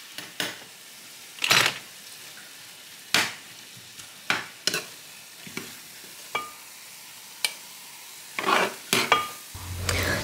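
Cauliflower rice with parmesan cheese stirred in a frying pan: a soft steady sizzle broken by repeated sharp scrapes and clinks of a utensil against the pan at irregular intervals, with no voices.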